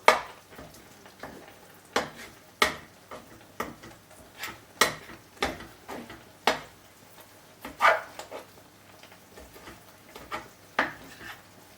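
A spoon or spatula breaks up minced meat filling in a frying pan while making meat croques, giving close, irregular clinks and scrapes against the pan roughly every half second to second, with no voices.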